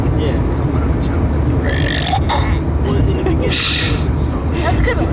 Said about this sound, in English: me burping?